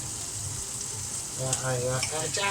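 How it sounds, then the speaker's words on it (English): Butter sizzling in a hot frying pan while pork chops cook, a steady low frying hiss with a few brief stirring clatters near the end. "I'm going to have to whack in some more butter"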